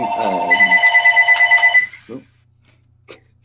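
A phone rings with a loud, bright warbling electronic ringtone pulsing rapidly for nearly two seconds, then stops, followed by brief faint sounds in a quiet room.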